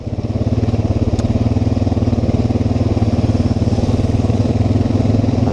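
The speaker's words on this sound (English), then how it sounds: "Was that a moped or what was that thing?" A moped passes close by with a loud, steady mid-pitched engine chug and buzzing rattle, heard alone while riding a 2012 Honda Rancher 420 AT ATV.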